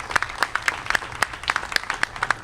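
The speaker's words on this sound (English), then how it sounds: "So can I have a big round of applause for that?" Scattered audience clapping at a community event, with distinct individual claps rhythmically punctuating the quiet rather than a full roar.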